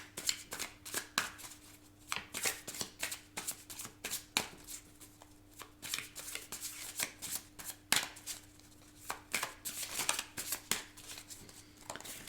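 Tarot cards are laid down and covered on a table in a quick, steady run of soft slaps, rustles and card flicks, close and fairly quiet over a faint constant hum.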